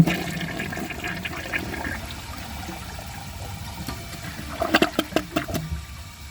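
A Mainstays high-efficiency toilet flushes with a loud rushing swirl of water that fades into trickling, followed by a few sharp clunks near the end.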